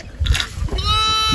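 Goats bleat on a Gurjar herders' camp, a short close cry followed by a sustained wavering bleat over a bit of background rustle.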